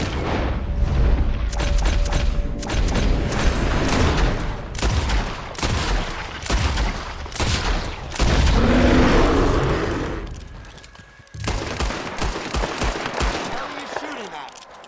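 Heavy gunfire in a Red Dead Redemption 2 mission: dense bursts of loud shots and booms crackle almost continuously, with shouted voices mixed in and a brief lull before the firing resumes.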